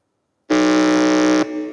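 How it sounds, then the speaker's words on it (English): The Dunwell Methodist team's quiz contest buzzer sounds as one loud, steady electronic tone lasting about a second, starting from silence and cutting off abruptly into a faint tail. "hear the sound from the buzzer from DUNWELL Methodist."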